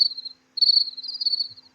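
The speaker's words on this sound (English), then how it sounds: "You're being joined by a cricket." A cricket chirps in steady high-pitched trills, close and fairly loud, with a short pause after the first burst before a longer run of chirping, alone with no talk.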